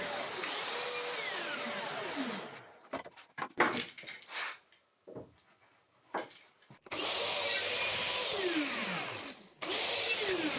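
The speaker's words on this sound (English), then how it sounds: "I'm using the track saw to make several cuts 8mm deep and across the 12mm width of the notch" Track saw plunge-cutting 8mm-deep notches across plywood shelf rails. Close, loud whining cuts come at the start and end, with clattering and shuffling handling noise between them.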